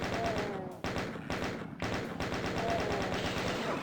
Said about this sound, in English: Now, I would switch over to the chain gun because there's a bunch of shotgunners around the corner